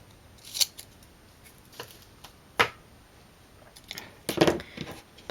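Scissors snip a strip of zip material for a pop-up box card, a few crisp separate cuts spread across a quiet room, the last ones a quick close pair.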